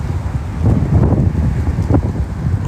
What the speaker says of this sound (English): the wind is just too much